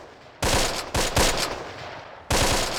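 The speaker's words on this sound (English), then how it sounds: "looks like we have some more gunfire breaking out." Bursts of machine-gun and rifle fire crackle loudly in the WW2 strategy video game Close Combat, three separate volleys with short pauses between them.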